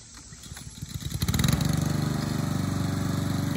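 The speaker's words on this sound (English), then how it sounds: "And now Papa's back mowing." A lawn mower engine coughs, sputters and catches after being refuelled with gas, then settles into a loud, steady, rapidly pulsing run close by.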